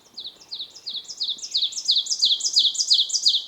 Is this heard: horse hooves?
no